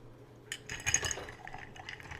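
Ice is stirred in a mixing glass for a Sazerac cocktail, heard as a faint, close run of light glassy clinks and soft sloshing that fades gradually.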